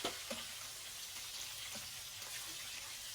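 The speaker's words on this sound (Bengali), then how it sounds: "লাল লাল করে ভেজে নিব।" Hilsa fish frying in a pan of oil gives a soft, steady sizzle and crackle with a few faint utensil taps, quiet and without talk.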